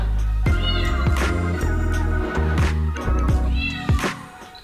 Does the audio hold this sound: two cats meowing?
yes